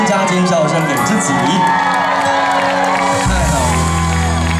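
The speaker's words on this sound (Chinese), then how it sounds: "掌声加尖笑声给自己" A large outdoor festival concert crowd in Pingtung cheers, screams and whoops loudly after a song, with the shouting rising and falling under music and an amplified voice that lingers.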